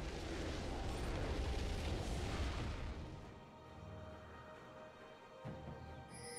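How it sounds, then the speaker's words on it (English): A turret being destroyed in League of Legends, a loud rumbling explosion that sustains for about three seconds, then fades into softer game ambience with a small later burst. "Blue team's turret has been destroyed"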